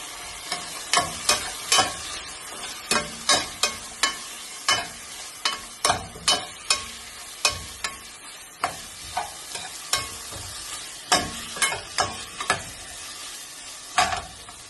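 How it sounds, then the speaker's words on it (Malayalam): Chicken pieces sizzle in a hot pan for chicken kanji while a spoon or spatula stirs them, with repeated sharp scraping strokes in an uneven rhythm over a steady frying hiss, close and fairly loud. "ഇത് കുറച്ച് സമയം നമുക്ക് ഈ ചിക്കന് ഇതിലേക്ക് ഇട്ട് കൊടുക്കാം."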